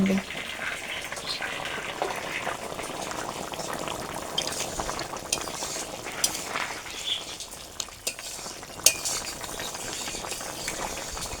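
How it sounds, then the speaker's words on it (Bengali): Silver carp fish curry gravy bubbling at a steady boil in a cooking pot, a continuous close simmering hiss with scattered pops and a few sharper clinks, no voices over it. "ঝোলটা ফুটে উঠেছে"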